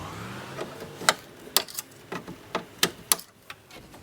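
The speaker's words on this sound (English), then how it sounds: "Okay, let's cut these wire ties off." Plastic wire ties on a 2003 Ford F-150 rear door are snipped off, giving a series of sharp, close clicks at irregular intervals, about ten snaps in a few seconds.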